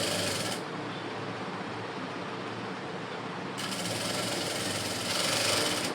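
Sewing machine stitching a seam on a blouse, a steady close mechanical whir running the whole time that eases slightly partway through, with no voices.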